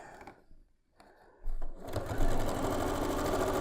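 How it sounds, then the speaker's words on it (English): Quiet fabric handling gives way to a sewing machine stitching a seam on a pinwheel star quilt block, running steadily and close for the last two seconds. "I'm going to sew down to that center section."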